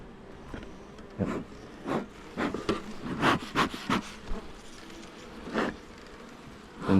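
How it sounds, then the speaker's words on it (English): A honey bee buzzes in close, rising and falling passes during a rainy-day hive inspection, a run of short whining bursts over faint background noise. "And if you could hear that bee, she just lit up and latched straight onto me"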